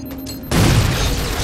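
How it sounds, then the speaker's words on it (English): Grenade blast in Halo 4 multiplayer on the Monolith map: a sudden loud booming burst that cuts in after a quiet half second and rolls on as a dense, sustained rumble. "That was like a perfect grenade."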